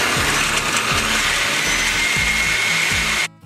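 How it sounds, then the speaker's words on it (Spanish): A kitchen blender grinds a sauce with cream for enchiladas suizas, a loud, steady whirring motor with rhythmic churning pulses that cuts off abruptly near the end. "Y entonces vamos a moler."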